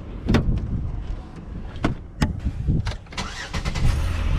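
A Chevy Impala bought at a dealer auction cranking and firing up, a brief sequence of sharp clicks and bursts of starter and engine noise close by, ending as the engine catches and runs.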